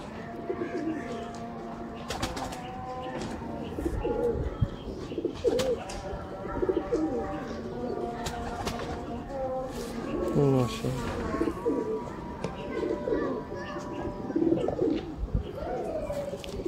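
A flock of 79 wale pigeons with red pearl markings coos in repeated, overlapping low calls, with occasional chirps and wing flutters, while someone talks over them throughout.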